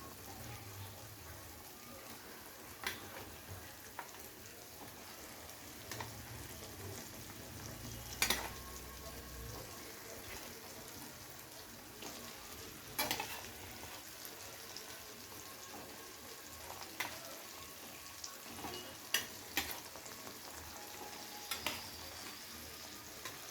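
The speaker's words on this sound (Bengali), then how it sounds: "এবারে আমি এখানে অ্যাড করে দেবো ভেজে রাখা চিকেনগুলো।" Fried chicken pieces sizzle in oily spice masala for a spicy chicken curry. The frying is a faint, even hiss, with occasional soft clatters from stirring.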